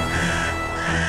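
Crows caw loudly and harshly in a dense, continuous burst, with no voices heard.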